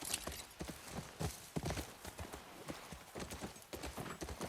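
Horse hooves clip-clop in The Last of Us in a quick, uneven run of sharp knocks, quiet and close, a faint whinny-like tone in the mix.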